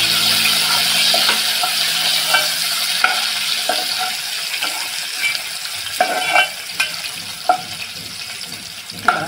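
Garlic and coriander leaves frying in tempering oil for a peanut curry, a continuous sizzle with intermittent spoon stirs against the pan, close and fairly loud, running water audible at the start, no speech.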